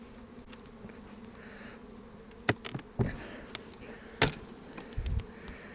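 Honey bees buzz around a heavy, densely populated beehive as a low, steady hum, with scattered sharp clicks and knocks from handling the hive.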